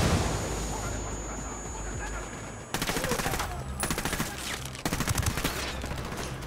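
Gunfire in the Ghost Recon video game, with fast bursts of automatic shots starting partway through and crackling on over steady battle ambience, loud and close, with faint voices underneath.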